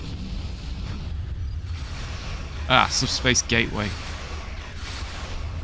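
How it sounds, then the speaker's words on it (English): A large explosion in the space game Star Trek Online, a short burst of crackling blasts lasting about a second over a steady engine-like drone, with someone talking briefly. "Ooh, big explosion."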